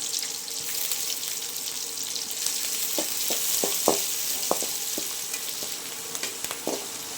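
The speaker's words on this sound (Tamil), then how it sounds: "சேர்த்து நல்லா வதக்கிக்கலாம்" Onion, green chilli and curry leaves sauté in a pan with a steady sizzle, broken by several sharp spatula scrapes and taps against the pan. The clip is close and moderately loud, and nobody speaks.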